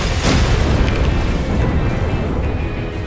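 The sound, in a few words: tank cannon blasts fired in a video game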